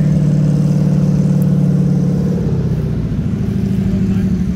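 A sprint car engine runs and revs nearby in the race pits, a loud throaty roar that eases and settles over a few seconds, with some voices mixed in.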